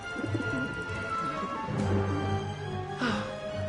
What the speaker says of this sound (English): How am I supposed to get rid of that pigeon?